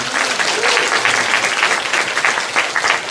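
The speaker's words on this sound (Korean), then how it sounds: "큰 박수 부탁드립니다." A church congregation breaks into loud, continuous applause, a thick wash of many hands clapping at even strength for the full few seconds.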